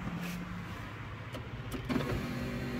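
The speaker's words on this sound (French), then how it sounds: "la vitre arrière électrique" The electric rear window of a 1996 Honda CRX Del Sol whirs as it moves, a steady motor hum running under the idling car for several seconds, fairly quiet and close, ending with a couple of soft clicks.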